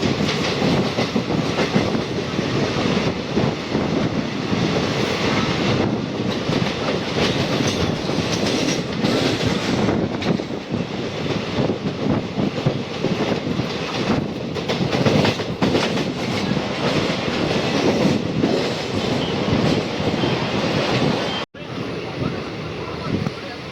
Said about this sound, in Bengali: ট্রেন ঢুকে গেল এখন বর্ধমান জংশন